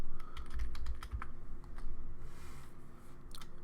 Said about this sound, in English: I'm going to begin typing